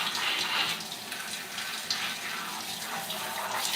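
Steady water running from a tap during a wash-day hair rinse, a continuous hissing flow that rises and dips slightly without any speech over it.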